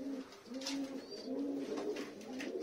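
Tumbler pigeons coo in a faint, regular series of repeated low calls, each coo rising and falling evenly, with no talking.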